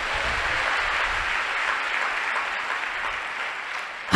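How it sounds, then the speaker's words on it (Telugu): A church congregation bursts into sustained applause, a dense, even roar of many hands clapping together that holds steady for several seconds before a sharp sound at the very end. "చప్పట్లు కొట్టండి ఒకసారి."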